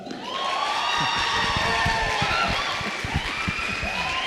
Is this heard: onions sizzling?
no